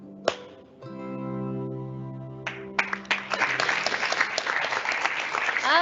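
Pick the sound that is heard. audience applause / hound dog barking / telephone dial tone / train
audience applause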